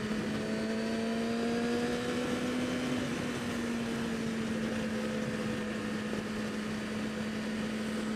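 A Yamaha motorcycle cruising in third gear at 50 mph gives a steady, unbroken engine drone with a low tonal hum and wind rush, holding even throughout with no speech.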